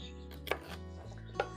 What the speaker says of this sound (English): Let's just chop these end bits off and these tops off.